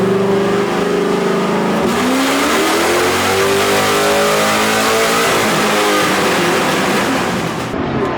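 A turbocharged BMW engine on a dyno at a dyno night event screams loudly and continuously, its pitch climbing steadily through a long, hard pull that lasts nearly the whole stretch. There is no talking.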